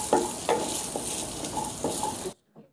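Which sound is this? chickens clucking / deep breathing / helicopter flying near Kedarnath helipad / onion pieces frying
onion pieces frying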